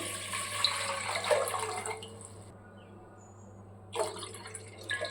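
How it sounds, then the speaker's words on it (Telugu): About two litres of water pour into a bowl in a steady broadband rush, stop briefly, then splash again in a shorter burst near the end, close and moderately loud. "నేను రెండు లీటర్లు వాటర్ అయితే వేస్తున్నాను ఇందులోకి"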